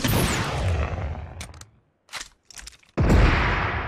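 Gunfire and rocket blasts in a battle royale shooter, a loud roaring burst at the start, a few short sharp cracks in a near-silent middle, then another heavy blast rushing in at the end, with no talk.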